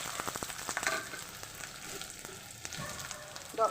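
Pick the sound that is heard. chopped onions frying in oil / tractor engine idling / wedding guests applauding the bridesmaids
chopped onions frying in oil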